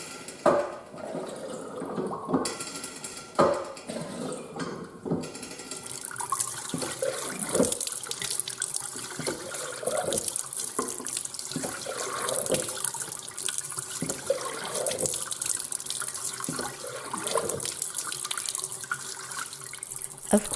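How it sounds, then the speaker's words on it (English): Water gurgles and splashes through a newly plumbed kitchen sink drain, a loud close stream with repeated glugging surges and drips lasting about twenty seconds. "Gurgle, gurgle."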